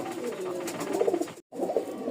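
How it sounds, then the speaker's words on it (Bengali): A pair of colored Golla pigeons, a local Bangladeshi breed, coo in low throaty bursts close by, with a short silent gap midway. "এই জায়গায় একজোড়া কালারিং গোল্লা কবুতর আছে"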